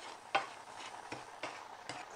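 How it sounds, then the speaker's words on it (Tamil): Light scraping and ticking as dry semolina is stirred and roasted in a hot pan, a few sharp scrapes at irregular intervals over a soft sizzle. "இதிலே வந்து நம்ம ரவையை போட்டு வறுக்கலாம்."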